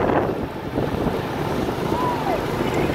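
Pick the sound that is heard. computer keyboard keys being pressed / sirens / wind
wind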